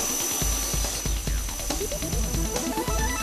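An M6 spiral tap held in a conventional collet chuck cuts threads in a machining operation, giving a steady mechanical hum with repeated sharp ticks and clicks over a constant whine.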